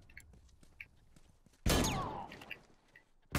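A single loud shotgun blast in The Last of Us Remastered multiplayer match, a sudden sharp boom with a ringing decaying tail, surrounded by quieter footsteps and small clicks before and after.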